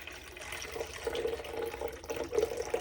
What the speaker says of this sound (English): But we're going to pour all of that off.